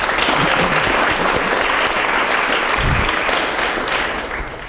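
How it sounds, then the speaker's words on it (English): An audience at a university town hall on transgender rights applauds with sustained, dense clapping that stays strong and then begins to taper slightly at the end. "can we give him an extra round of applause?"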